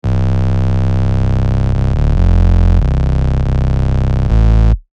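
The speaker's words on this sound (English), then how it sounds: "If I just had a regular square wave" A synthesizer holds a loud, steady square-wave bass tone with a dense, buzzy timbre, jumping between held pitches in a simple sequence before stopping abruptly.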